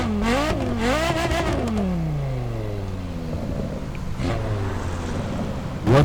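Porsche Carrera GT engine in the racing game The Crew Motorfest, revving and shifting up through gears with rising and falling pitch sweeps, then a steady drone with wind-like roar, loud and close.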